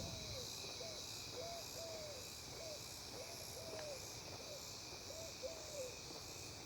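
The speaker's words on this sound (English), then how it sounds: "It's either a mourning dove or an East Eurasian dove." A mourning dove or Eurasian collared dove calls in a suburban neighborhood in the evening, making a soft, owl-like hooting with repeated cooing notes at a distance over a constant hum of insects.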